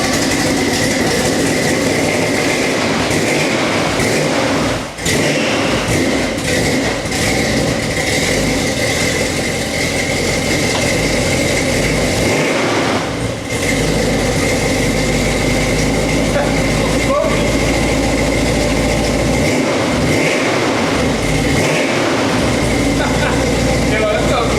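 An engine with a chopped exhaust pipe runs continuously for a long stretch, a loud, dense, rough drone with a few brief dips.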